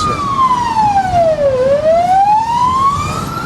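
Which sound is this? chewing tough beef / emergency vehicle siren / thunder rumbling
emergency vehicle siren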